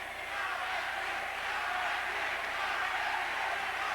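Boxing arena crowd at a lightweight bout, a broad distant roar of cheering voices swelling steadily, fairly faint and continuous for a few seconds.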